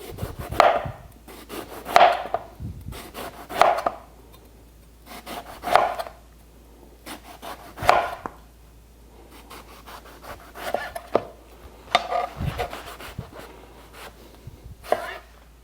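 A knife slicing eggplant on a wooden board: steady, evenly spaced chopping strokes, each a firm close thud with a brief scrape, repeated about a dozen times with no voice over them.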